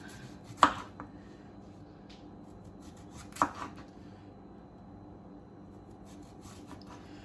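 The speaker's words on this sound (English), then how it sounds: "I chop the zucchini" Two sharp knife chops cutting zucchini on a cutting board, well spaced and close, with quiet kitchen background between them.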